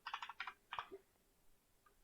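Quick bursts of keystrokes on a computer keyboard, a few rapid clacks in short clusters with pauses between, close and fairly quiet.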